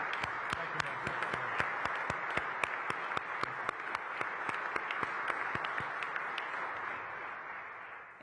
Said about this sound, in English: Let's give him a round of applause and thank him for that.